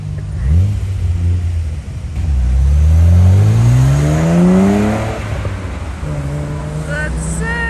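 A Nissan GT-R's engine revs loudly on a street in Nagoya, rising in pitch through a long acceleration sweep and then settling to a lower drone, with people talking over it.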